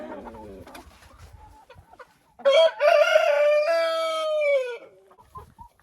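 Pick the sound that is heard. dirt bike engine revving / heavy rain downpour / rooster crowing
rooster crowing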